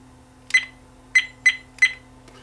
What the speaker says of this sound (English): it beeps when it's not recording to let you know that it's not recording